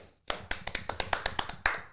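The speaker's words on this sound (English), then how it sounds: "we've got to do a round of applause" A short, brisk round of applause for podcast sponsors: about ten sharp claps in a quick, slightly uneven rhythm, close and dry, with no talking.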